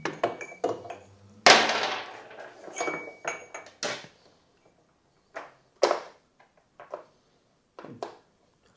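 A bolt dropped repeatedly into the suspension linkage of a CFMOTO 450MT motorcycle, giving a string of sharp metallic clinks and knocks with a few louder hits, close by, separated by short quiet gaps.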